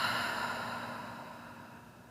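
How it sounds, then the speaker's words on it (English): A slow, steady breath exhaled during a yoga breathing exercise, a soft airy sigh close to the mic that fades gradually over about two seconds, with no talking. "So inhale for 4 and exhale for 8."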